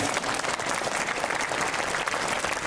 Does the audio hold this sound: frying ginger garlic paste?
no